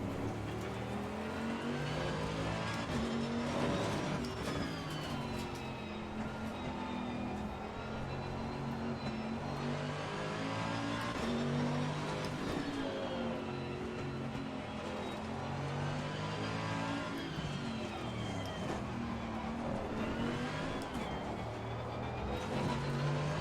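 A Mercedes-AMG race car engine in Assetto Corsa Competizione drones steadily at high revs, its pitch rising and falling through gear changes and corners, loud and continuous with no voices over it.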